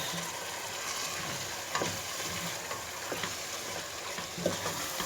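Tomatoes fry in a pan with a constant moderate sizzle, broken by occasional stirring clicks and soft scrapes, with no voices.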